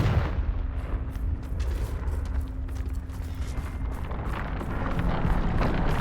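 Confringo fire blast spell in Hogwarts Legacy, heard as a steady roar of rumbling booms and crackling impacts over six seconds, dense and loud throughout with no voices.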